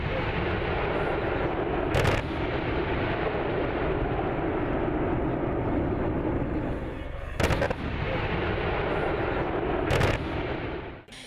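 Artillery fire during military exercises over a constant roaring background, with three sharp heavy blasts spaced several seconds apart.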